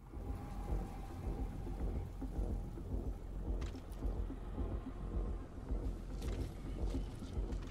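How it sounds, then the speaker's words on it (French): A thunderstorm in Metal Gear Solid 5 gives dense, steady rain noise with low rumbling thunder underneath and a few sharp crackles, with no voices. "Je ne sais pas combien de temps la tempête va mettre."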